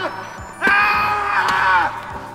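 An actor screams out loud in a Korean drama scene, one long strained cry held for over a second, loud and close, following a short sharp impact and faint background voices.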